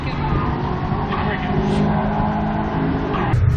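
LS turbo drag car pulling hard down a drag strip, a loud, steady engine roar holding for several seconds with a rising surge near the end, a voice faintly underneath.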